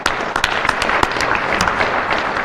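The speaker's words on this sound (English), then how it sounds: "So it's a round of applause for our new mayor." Audience applause for a new mayor at a State of the City address in Jackson, Michigan, a short, loud burst of dense clapping with a few distinct nearby claps.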